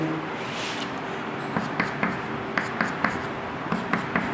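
Chalk or marker writing an equation on a board in a chemistry lesson, a series of short scratchy strokes in quick rhythm over a steady room hum, with no speech.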